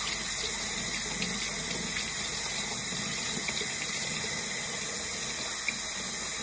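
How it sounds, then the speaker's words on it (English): Hot water runs steadily from a tap while a paintbrush is rinsed beneath it, a constant close hiss and splash with no pauses. "I have hot water running"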